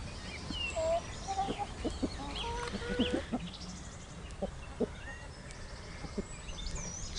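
Free-ranging hens kept in an ark cluck softly at a distance, with scattered short calls and chirps over a quiet outdoor background.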